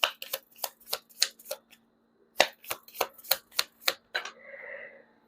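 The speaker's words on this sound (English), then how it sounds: "Oh my gosh, you saw me shuffle." Tarot cards shuffled by hand in a run of crisp riffling bursts, two quick clusters separated by a short pause, close and clear, with a softer rustling slide as the deck settles at the end.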